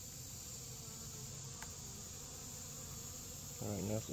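Hungry bees buzz up close in a steady, unbroken hum that holds for the whole span, with a brief voice near the end.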